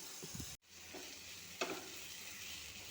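Onion and tomato sautéing in oil in a pan make a faint, steady sizzle, with a couple of soft utensil scrapes while stirring and no talking.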